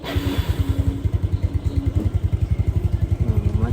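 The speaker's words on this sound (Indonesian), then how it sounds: "gua mau coba nyalain motornya biar kalian juga tahu hasil dari suara mesin motor gue ini" A 2007 Yamaha Mio Sporty motor scooter engine idles loudly and close after starting, with a steady rapid chugging pulse throughout.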